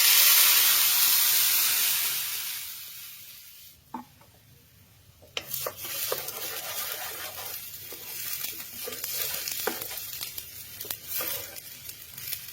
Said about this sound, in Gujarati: ચટણી નાખી.